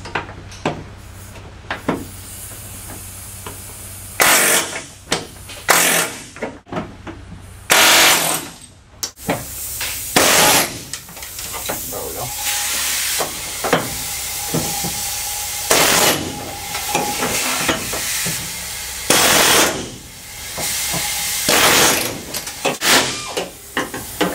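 A chisel is struck again and again to cut rivets out of the rear cargo door roller track on an LLV. Sharp metallic hits and scraping bursts come in irregular clusters, close and loud, with short pauses between.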